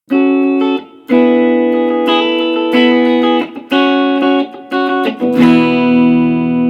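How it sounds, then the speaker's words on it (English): Distorted electric guitar playing sustained chords and riffs through a long-decay hall or plate reverb, each note ringing and smearing into a lingering wash between phrases, loud and close with no talk, in a prog metal and overdrive setting. "a long decayed hall or plate reverb can wake the dead and make Ronald McDonald go to Wendy's"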